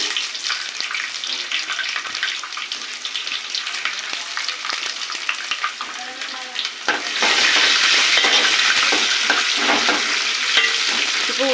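Onions fry in oil with peanuts in a pan, a dense, steady close sizzle that swells louder partway through, with occasional stirring scrapes.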